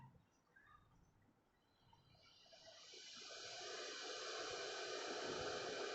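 A repaired electric kettle heats water, staying near silent at first before a broad hiss builds after a couple of seconds and swells into a steady, rushing roar.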